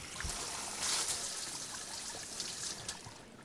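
Water runs in a video game scene, a steady close trickling and splashing flow with small bright spatters, with no voices over it.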